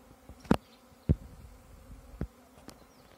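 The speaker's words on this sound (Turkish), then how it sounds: "Şu anda oğul. Şu anda giriyor kovana." A honeybee swarm arrives and enters a hive outdoors, giving a faint background buzz broken by a few sharp, close taps or bumps.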